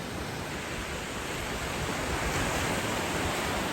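Ocean waves wash onto a soft, pebbly California beach as a steady, dense roar of surf with no break and no voices.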